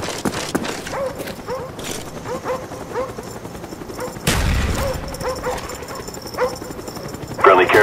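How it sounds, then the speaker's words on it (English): Attack dogs barking in the military shooter game Call of Duty: Black Ops, a scatter of repeated barks and yips amid game noise, with a radio announcer voice speaking and a burst of louder action midway. "Friendly dogs inbound."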